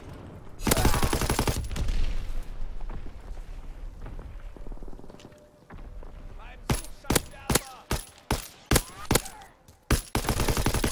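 Gunfire in a Call of Duty WWII multiplayer match: a long loud burst of rapid automatic fire, then a run of single heavy shots cracking at irregular intervals, with quieter battle noise in between.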